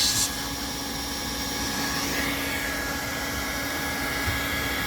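A hot air welder fusing a TPO roof membrane during a roof repair gives a loud, steady blowing whir with a faint hiss that runs unbroken from start to finish.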